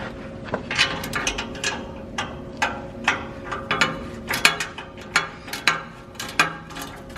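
A hand ratchet clicks in quick repeated bursts while loosening the exhaust header collector bolts on a car during a six-speed swap, sharp close metallic ticks in an uneven rhythm.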